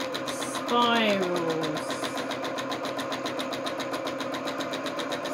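A sewing machine stitches fabric while drawing freehand shapes, a fast, even mechanical chatter that runs steadily throughout. A person talks over it, and a brief sliding tone sounds near the start.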